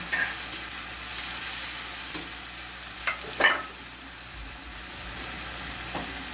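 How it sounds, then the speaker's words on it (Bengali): Dried chili paste masala frying in a pan, a steady close sizzle with a few sharp scrapes and knocks of stirring around the middle and near the end, no talking. "এটাকে ভালো করে কষাই নেব"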